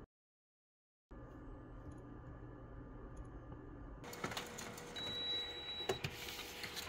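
A Canon Color imageCLASS MF753Cdw color laser printer running a test page: a steady mechanical whir starts after a moment of silence, then rises into busier rolling and feeding noise with small clicks and a brief high whine, faint and close.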